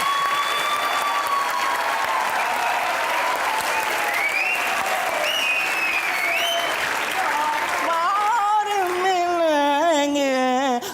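A studio audience on a Pakistani comedy talk show applauds steadily as actress Bushra Ansari is welcomed, a dense, loud, continuous wash of clapping that runs throughout, with a voice rising over it near the end.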